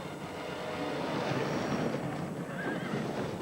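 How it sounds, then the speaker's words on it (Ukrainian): Dense, noisy wash of horse sounds, whinnying amid hoofbeats and commotion after a fall during a horse race, heard at a distance without any talk. "Цитадель Пес падає."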